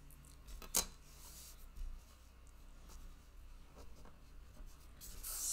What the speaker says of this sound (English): now I'm just gonna cut it down